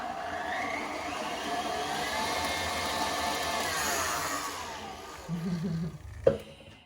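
Electric mixer whirs steadily through wet strawberry cake batter with vanilla extract, a continuous close whine that fades near the end and is followed by a brief clatter.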